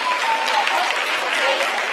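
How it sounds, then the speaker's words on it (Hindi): Applause fills a mission control room during the Chandrayaan 3 moon landing, steady, close clapping from many people lasting a couple of seconds with no break. "Lot of applause indicates that till now the performance has been nominal."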